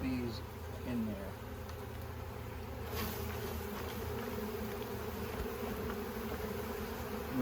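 Honeybees buzz in a low, steady drone that hums close by as the insects are shaken from a frame into a swarm trap, with a faint voice talking now and then.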